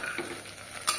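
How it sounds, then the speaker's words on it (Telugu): Vegetable pieces and soya chunks are stirred in a pot, giving a soft scraping and sizzling with a sharper clatter near the end, close by, with no talk. "బాగా కలుపుకుందాం."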